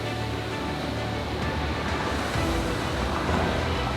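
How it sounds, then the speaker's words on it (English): Steady broadband rushing water of Cascade Falls on Minnesota's North Shore of Lake Superior fills the air, a constant loud roar of falling water without breaks or talking. "So we are now at another waterfall."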